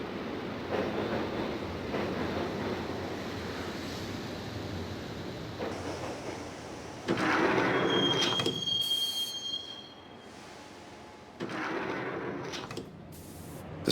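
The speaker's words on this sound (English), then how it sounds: "the train doors had already shut behind me, and I was in for the ride" A subway train from the Max Payne game rumbles steadily through a tunnel, with a loud burst of rolling noise midway, a thin high wheel squeal, and a closing surge of clatter; no talking.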